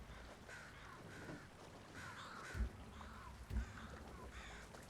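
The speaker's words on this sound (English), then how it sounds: "look at how many crows this is. It's insane. It's too many crows." Crows caw repeatedly in a large flock in the game Ghost of Tsushima, with overlapping calls at middling distance, two dull low thumps, and a soft wind-like background.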